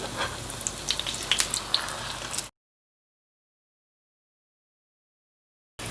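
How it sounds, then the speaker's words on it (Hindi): Potato cutlets fry on a tawa with a soft, close sizzle for a couple of seconds, then silence before the sizzle briefly returns at the end. "मैं इसे तवे पे फ्राई कर रही हूँ"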